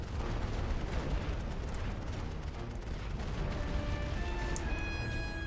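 Heavy artillery shells exploding across a World War I trench battlefield in The Great War: Western Front, a dense, continuous roar of blasts and rumbling gunfire with no voices, steady and loud throughout.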